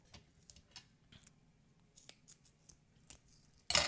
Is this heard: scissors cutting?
yes